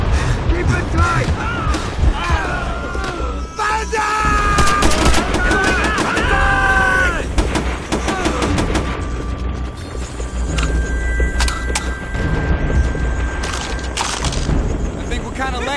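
Call of Duty: World at War battle with machine gun fire from bunkers, dense overlapping bursts, booms and explosions throughout, with shouted voices mixed in under the continuous combat din.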